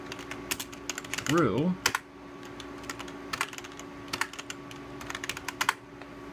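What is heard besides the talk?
Sun keyboard clicking through usb3sun adapter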